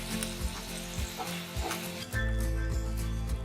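Tomatoes roasting in a pan over a medium flame give a steady, close sizzle with occasional stirring scrapes, growing louder and fuller partway through.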